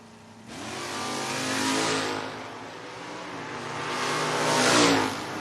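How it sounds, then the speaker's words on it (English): Two drag cars, a Pontiac Grand Am and a Chevrolet Impala, launch off the line with loud engine revs that swell, dip and surge again as they accelerate away. "Only in drag racing you can see a Grand Am line up next to an Impala."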